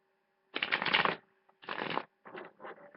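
Tarot cards being shuffled close up: a long riffle, a shorter one, then several quick crisp bursts, with no talking.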